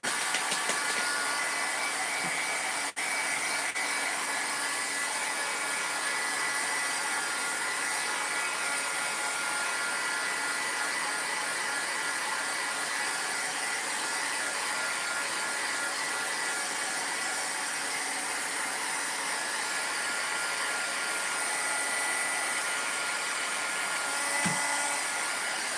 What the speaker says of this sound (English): I'm going to go ahead and just heat set this.